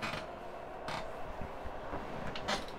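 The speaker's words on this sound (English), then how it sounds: "You can hear my chair squeaking there." An office chair squeaks in a room beside an old Tandy 1000 computer setup, giving a few short creaks and groans in quick succession, close and moderately loud, with no talking.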